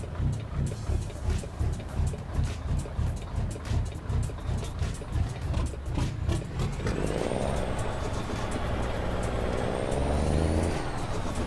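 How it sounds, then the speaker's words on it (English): A heavy truck engine in American Truck Simulator rumbles with a pulsing low drone, then shifts to a smoother, rising rev as the gears change, loud and close throughout. "I do like the sound of this engine."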